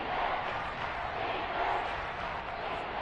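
A dense, steady roar of a stadium crowd at a Seahawks home game in a football video game, a constant wash of noise with no distinct cheers or breaks.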